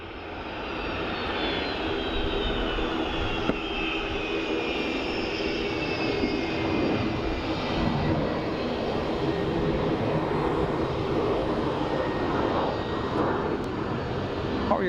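A United Airlines Boeing 757 jet roars steadily at Dublin Airport, a loud sustained engine rumble with a high whine sweeping downward, heard alone without talk.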